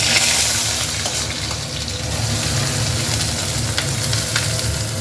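Chopped onion sizzles and fries in hot white oil in a wok, a steady broadband crackle with occasional stirring clinks, close and fairly loud with no talking.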